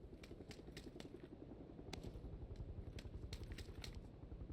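A helicopter in the video game PUBG: Battlegrounds, its rotor giving a steady rhythmic thumping drone that continues throughout without voices.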